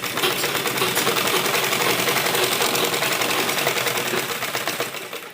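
Sewing machine stitching the inner lining of an embroidered suit, a fast, even, loud mechanical whir of needle strokes running continuously before easing slightly at the end.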